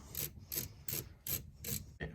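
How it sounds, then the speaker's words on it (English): An 8 mm ratchet working a hose clamp on the fuel filler hose of a 1999-2005 Chevy Cavalier, five evenly spaced bursts of quick clicking strokes, close and fairly quiet. "we're going to undo the hose clamp that connects the filler neck to the filler hose"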